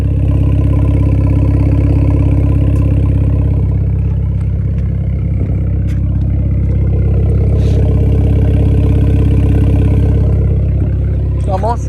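A Triumph Trophy motorcycle fitted with a new exhaust idles in sport mode, recorded from outside. The engine gives a steady, loud, deep rumble for the whole stretch, with a voice talking over it.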